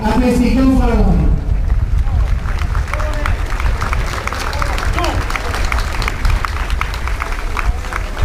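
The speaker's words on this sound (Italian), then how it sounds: "Un bel applauso a questi gonfaloni." Outdoor crowd applause for the town gonfalons at a regional Bersaglieri rally in Conegliano, a sustained dense clapping that runs throughout, mixed with crowd murmur and voices.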